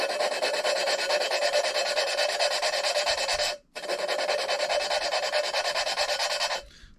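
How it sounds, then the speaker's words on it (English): An LS4 engine valve being spun and turned against its seat while lapping: a steady, loud gritty rasping that runs continuously, breaks off for a brief moment, then resumes before stopping. "Just spin it and then turn it, maybe 60 degrees or so every once in a while, and do it again."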